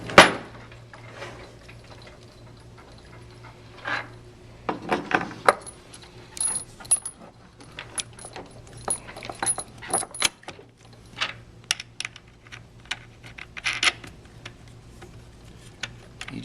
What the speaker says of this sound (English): we're going to put a couple of bolts in and just engage them enough to get a couple threads in